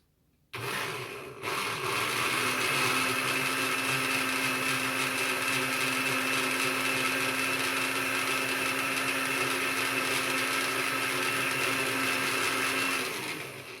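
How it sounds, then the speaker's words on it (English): A blender mixing meatloaf ingredients kicks on with a brief stutter and then whirs loudly and steadily for more than ten seconds before winding down. "we're gonna go ahead and we're gonna put this in our blender."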